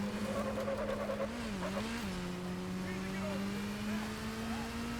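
A motorbike engine in the video game Gotham Knights, a steady droning hum that rises and dips in pitch as the bike is steered, with game sounds around it.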